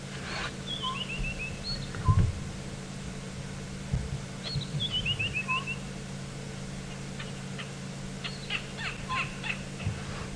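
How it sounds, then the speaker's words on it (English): Grey go-away birds calling from a thicket during a late-afternoon safari drive in the African bush, with short descending whistled phrases repeated in a couple of bursts at moderate distance. A scrub robin sings nearby and vehicle rumble sits underneath. "Some grey go-away birds calling too."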